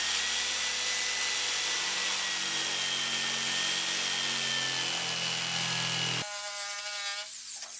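A Stark JS 850 jigsaw cuts through wood with a loud, steady whining buzz that runs for several seconds, then the motor cuts off and spins down with a ringing tail.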